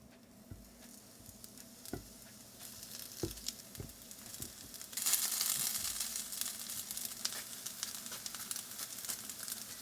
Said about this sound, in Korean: 세지 않게 팬에 굽습니다